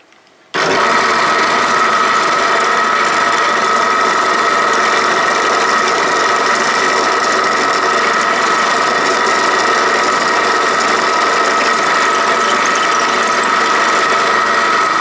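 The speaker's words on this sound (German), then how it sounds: "Gut, dann bohre ich mal das Loch." A drill bores a hole in beech wood for a bushcraft rope tensioner, starting abruptly after a short pause and then running loud and steady with a constant whine until the end.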